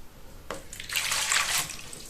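Lukewarm water poured into a bowl for pastry dough, a brief close splashing stream lasting about a second before tapering off.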